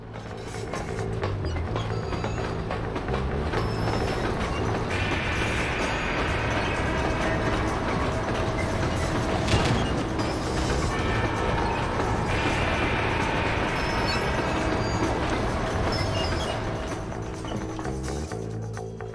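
Steady mechanical clanking and ratcheting of a train in the video game Red Dead Redemption, continuous and loud throughout with rhythmic metallic rattling.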